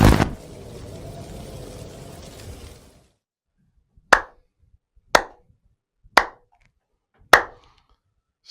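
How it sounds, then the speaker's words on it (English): A slow clap after a noisy opening burst: four sharp, isolated hand claps about a second apart, loud and dry, each ringing briefly into silence. "Slow clap for the Cornball brother."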